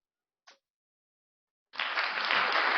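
A congregation bursts into applause after a short silence, a broad, steady wash of clapping that starts abruptly and holds near and loud, preceded by a single brief isolated sound.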